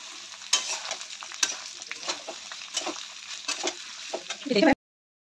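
Mango pieces being stirred in a pan on a low gas flame while cooking pickle, with a steady scraping and sizzling texture and intermittent clinks of the spoon, ending abruptly.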